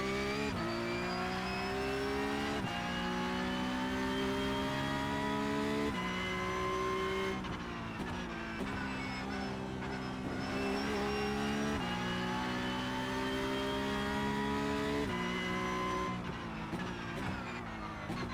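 Porsche Cup race car in iRacing, its rear-engined flat-six droning loud and steady throughout, the pitch climbing and dropping with gear changes as it laps the circuit alone, with no talk.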